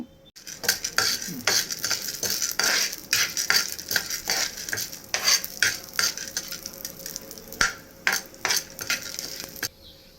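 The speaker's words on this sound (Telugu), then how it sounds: "ఇప్పుడు కొంచెం ఆయిల్ వేసుకొని పచ్చెనపప్పు వేసుకుంటున్నాను." Chana dal frying in oil in a pan, with steady hiss and frequent clinks and scrapes of a metal spoon stirring against the pan, close and fairly loud throughout.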